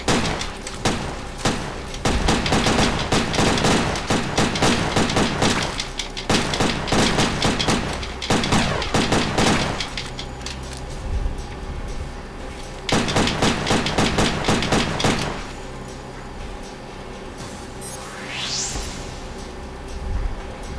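Repeated bursts of gunfire ring out during a mission in Headhunter on the Sega Dreamcast, loud rapid volleys broken by short pauses and ending with a rising whoosh.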